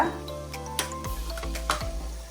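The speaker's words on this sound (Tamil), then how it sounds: "ரவையை சேர்த்துட்டு நல்லா வந்து வறுத்து விட்டுக்கலாம். லோ ஃப்ளேமில் வச்சுட்டு வறுத்து விட்டுக்கோங்க." Semolina (rava) stirred and dry-roasted in a pan over a low flame for pineapple rava kesari, a few close scraping strokes of the spoon against the pan over a soft sizzle, with a steady low hum underneath.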